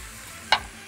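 Meat frying with ginger, cardamom and cinnamon in a pan for a roqaq tray, a soft steady sizzle with one sharp brief clatter of stirring, close and without talk.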